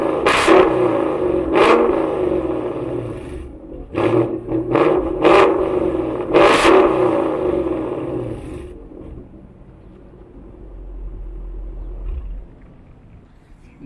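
A 2018 Ford Mustang 5.0 GT with a 10-speed automatic revs its exhaust close by in several sharp, loud bursts over a rumbling idle, then settles into a quieter low burble.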